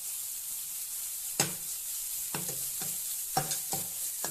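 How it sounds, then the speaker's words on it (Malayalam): Grated coconut frying in ghee on a hot tawa, a soft steady sizzle broken by several sharp scraping stirs of a spatula, close and alone without any voices. "തവയിൽ അല്പം നെയ്യ് എടുത്ത് ചൂടാക്കുക. അതിലേക്ക് തേങ്ങ ചിരകിയത് ചേർക്കാം."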